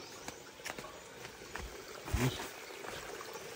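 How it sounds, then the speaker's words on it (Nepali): Water runs along a hillside path in the Ilam and Panchthar hills of Nepal, a faint, steady trickling stream heard from close by with a few soft splashes and no voices. "यहाँदेखि पानी बगेको छ"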